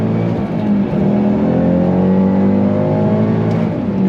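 A 2013 Ford Shelby GT500 Mustang with about 6,200 miles accelerating hard, its engine note loud, steady and close, with a rising whine throughout and no talking.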